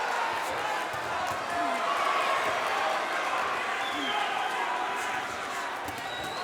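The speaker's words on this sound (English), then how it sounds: "Crowd getting into this one" A boxing crowd at a cruiserweight championship fight in the Catskills cheers steadily, a dense, continuous roar of voices and clapping with no single voice standing out.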